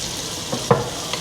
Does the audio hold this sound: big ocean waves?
no